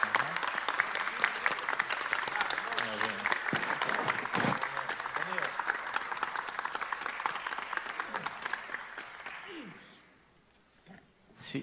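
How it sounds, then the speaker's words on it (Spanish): Parliament members in a national legislative committee session applaud visiting UK parliamentarians, a loud sustained burst of many hands clapping for about nine seconds with some voices mixed in, then fading out to near silence. "Un aplauso para ellos."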